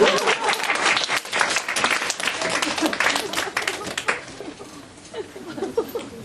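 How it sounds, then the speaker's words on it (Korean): Church congregation applauding at a youth vision conference, a dense roomful of clapping that swells and holds steady, then thins toward the end. "이때도 박수 한번 쳐야 돼요."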